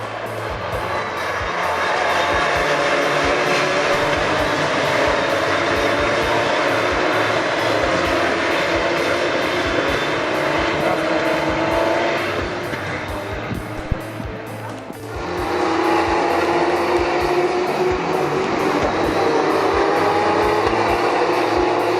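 Porsche Carrera Cup race cars launch from the start at the Dijon-Prenois circuit with a loud, dense roar of many engines. The sound holds throughout, dips briefly partway through, then surges back at full volume.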